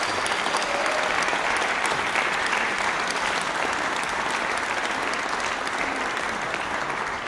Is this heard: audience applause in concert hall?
yes